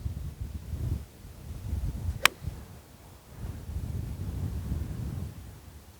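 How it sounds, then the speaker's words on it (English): Wind blowing across an outdoor golf practice tee on a cold day, heard as low rumbling buffets on the microphone that rise and fall in gusts, with one brief sharp tick in the middle. "when the wind is blowing on you like it is"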